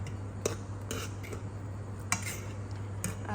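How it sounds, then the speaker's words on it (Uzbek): Buldak ramen noodles with egg being stirred in a pot, with light scattered clinks and taps of a utensil against the metal over a faint steady hum. "mana bunday prosta aralashtirib tashlash kerak"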